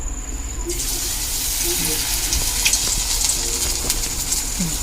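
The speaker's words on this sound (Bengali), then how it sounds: "মাখানোর পরে এবার আমি একটা আস্তে আস্তে করে ভাজবো।" Batter-coated fish cutlet, dipped in cornflour, frying slowly in hot oil, giving a steady broadband sizzle with crackling pops that swells after a brief quieter start and holds close and continuous.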